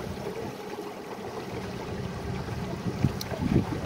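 A houseboat engine runs at low speed while pushing through a weedy channel, a steady low rumble under wind and water wash, slightly rising toward the end with a few bumps.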